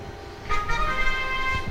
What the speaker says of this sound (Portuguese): O indivíduo escutou essa corneta, certo?